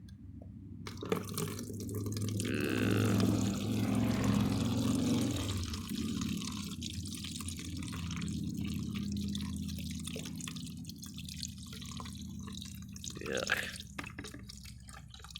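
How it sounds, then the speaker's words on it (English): Old, dark fluid from a 1987 Kenworth T600 truck that sat in a field for over 20 years is poured into a bucket, making a sustained splashing, gurgling stream that later thins to drips, with a brief spoken remark. "let's pour that in a bucket"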